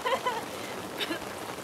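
Rain falls on an English garden during a backyard barbecue, a soft continuous patter of drops with faint scattered voices nearby.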